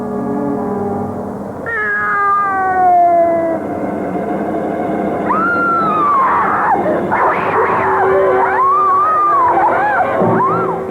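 Cats in a horror film let out long, wavering meows one after another, loud and close over a dense, noisy background with a low rumble beneath.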